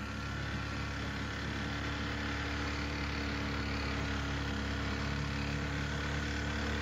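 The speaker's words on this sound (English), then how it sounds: "Let's cut off the engine for a minute and get some peace." A boat's outboard engine drones steadily and loudly throughout while it travels through an alligator refuge. The motor holds an unbroken, even hum with no voices.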